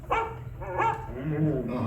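A dog gives a few short barks and yips close by, with whimpering tones between them.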